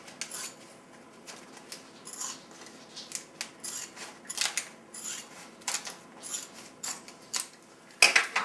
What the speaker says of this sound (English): And I'm going to cut a small portion of one out off the roll.